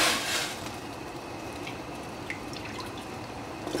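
Water boiling in a pot for cooking artichokes to marinate: a steady, close bubbling hiss with light dripping and splashing, no talking.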